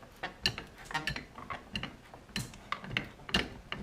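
A toe-nailed nail being rocked back and forth and pried out of a wooden stud gives a close series of sharp creaks, clicks and squeaks in uneven bursts.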